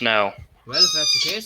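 A human voice imitates a cat screeching in a tabletop role-playing session, giving two drawn-out, close, loud yowls separated by a short gap, mixed in with spoken words.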